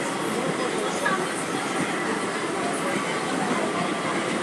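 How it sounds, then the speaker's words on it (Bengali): An EMU local train in eastern India rolls and gathers speed, a dense, steady rumble of wheels and carriage noise filling the whole clip, loud and continuous. "আমাদের লোকাল ট্রেনেরও সময় হয়ে গেল একটু অ্যাক্সিলারেশন করা।"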